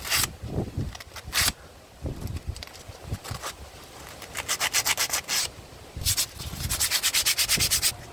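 A flat screwdriver scrapes grime from the grooves of Mitsubishi Xpander front brake pads, coming in close, rapid bursts of gritty scraping strokes separated by short pauses.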